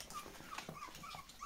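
Several Pomeranian puppies from a group of litters give faint, high little whimpers and yips, scattered close together over a soft background with no talk.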